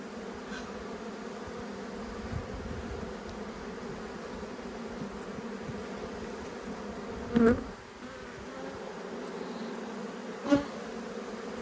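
A colony of honey bees hums intensely as brood frames are shaken off over the hive, the close, continuous buzz broken by a couple of sharp knocks near the end.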